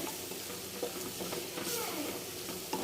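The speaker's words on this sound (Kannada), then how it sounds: "ಈಗ ಸ್ವಲ್ಪ ಎಣ್ಣೆಯಲ್ಲಿ ಫ್ರೈ ಮಾಡ್ಕೋಬೇಕಾಗುತ್ತೆ" Food sizzles and fries in oil for a village-style Kannada tomato curry, a steady hiss with light stirring scrapes throughout.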